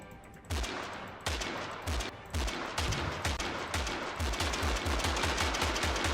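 Rapid, continuous bursts from a Gatling gun in the battle game TABS, loud rattling volleys with short gaps between strings of shots and a driving low thump under each burst.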